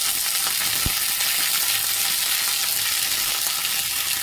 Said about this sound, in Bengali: এরকম নাড়াচাড়া করে পেঁয়াজটাকে কম আঁচ করে ভালো করে ভেজে নেব